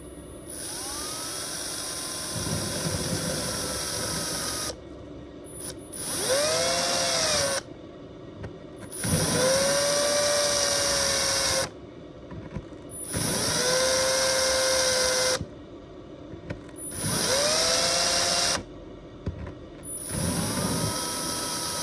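A drill spins at low speed lapping a valve from the oil filter housing of a BMW E46, in about five steady whirring bursts with short pauses between them and a rising and falling whine. Nobody talks.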